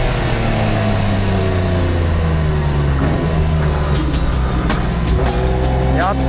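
Nissan Skyline GTR race cars in Group A replica trim out on a circuit, engines droning loudly and continuously with shifting revs as several pass, someone talking over them.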